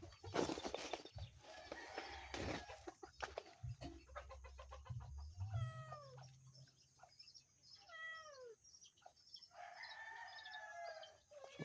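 A cat meows several times in drawn-out, bending cries, mixed with rooster crowing and clucking chickens in a noisy outdoor setting.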